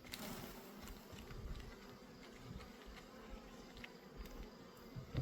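Honey bees buzz continuously at a hive during a honey harvest, several insects droning around close by at a faint, steady level.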